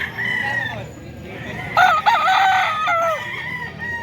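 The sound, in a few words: rooster crowing, Boss Albert's banded gamefowl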